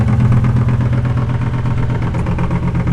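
A sailboat's engine runs steadily and loudly, with a soft percussive knocking near the propeller shaft beating under a dense low rumble throughout.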